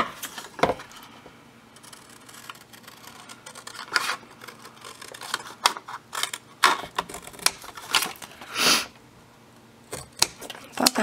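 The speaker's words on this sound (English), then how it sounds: "I forgot to cut this part off." Paper being trimmed for a printable mini book with a burlap and binder-ring design, heard as scattered close snips, crinkles and handling noises with irregular pauses between them.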